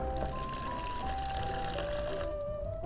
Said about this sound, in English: And then the cold water just to the fill line.